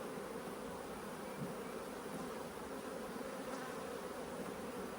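Honey bees hum steadily at an open hive during a split, a dense, even drone of many insects close by with no talk over it.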